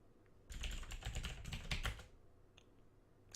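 Quick burst of computer keyboard typing as a Linux terminal command is entered, a rapid run of close, crisp key clicks lasting about a second and a half, then a couple of faint taps in near silence.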